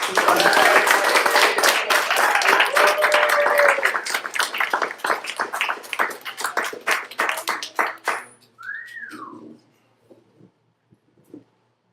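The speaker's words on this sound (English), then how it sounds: "Please give him a warm round of applause." Audience applause at a student music recital following an introduction, a dense burst of clapping that thins to scattered claps and trails off, with a brief whistle near the end.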